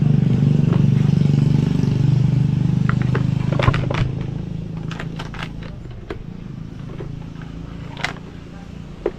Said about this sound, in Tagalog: ang huling testing ng ating makina